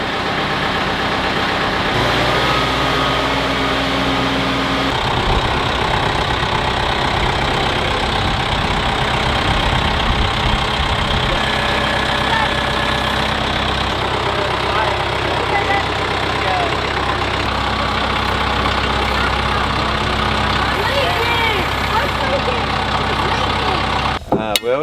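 A tractor named Cubby runs steadily nearby, its engine holding a continuous low rumble with shifting tone as it drives, loud and constant throughout, with a brief clatter at the very end.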